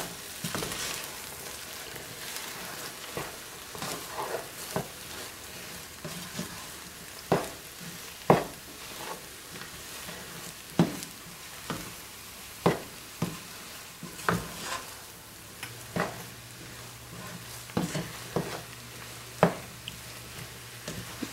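Breakfast burrito filling being stirred and sizzling in a frying pan, a steady crackle under repeated scraping strokes of a utensil against the pan, close and fairly quiet.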